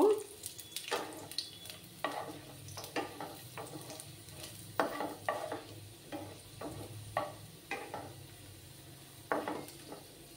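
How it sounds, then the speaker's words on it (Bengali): Cut garlic cloves fry in a pan, a soft continuous sizzle punctuated by regular scraping and clinking stirs of a utensil against the metal, close and fairly quiet. "রসুনগুলোকে আমি একটু লাল লাল করে ভেজে নেব।"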